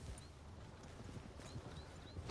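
Horse hooves clip-clop at a steady walk in Red Dead Redemption 2, soft and fairly quiet over a low ambient rumble, with faint distant bird chirps above.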